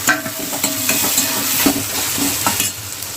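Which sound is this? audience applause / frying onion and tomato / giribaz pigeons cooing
frying onion and tomato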